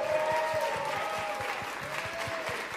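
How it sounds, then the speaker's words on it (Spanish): A Christmas concert audience gives applause for a guest singer, a steady wash of clapping at moderate level with a faint sustained tone and a few rhythmic low thumps underneath. "demos un aplauso grande a Carlos Izaga"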